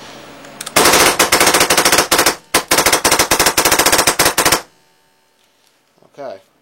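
An AGD paintball marker fitted with a ULT valve fires in long, rapid bursts of sharp cracks with a brief pause between them, loud and close, then falls silent with a faint hiss afterward.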